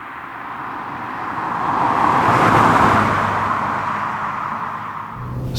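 A car heard from inside while driving, a steady road and engine hum that swells slightly in the middle, then eases, with a brief knock at the end.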